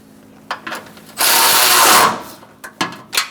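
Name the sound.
tightening nuts on Hyundai Accent radiator mount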